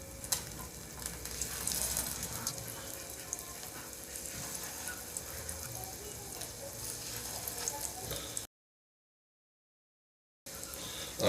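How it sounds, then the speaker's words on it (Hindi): Beef shami kebabs frying in hot oil over a low flame, a steady close sizzle that runs unbroken for several seconds, cuts out briefly, then returns. "तेल हमारा गर्म हो गया है। हम इसको अंदर कबाब को फ्राई करना शुरू करते हैं।"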